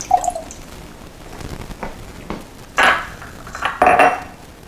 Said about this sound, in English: So pour more water.